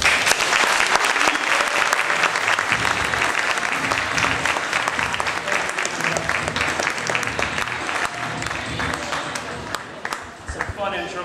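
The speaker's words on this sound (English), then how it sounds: "Please help me in giving him a huge round of applause, Jairek Robbins." An audience at a Connect.Inspire.Grow. event gives a speaker a big round of applause, dense sustained clapping from a large crowd that thins out slightly near the end.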